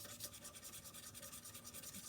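Sandpaper rubbing back and forth over a turned wooden pen spinning on a lathe, a quiet rhythmic rasp that repeats about every tenth of a second over a low motor hum.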